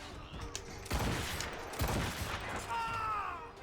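A volley of gunfire rings out in the game Assassin's Creed Rogue, two heavy booming bursts about a second apart followed by rumbling echoes, with other game sounds in the background.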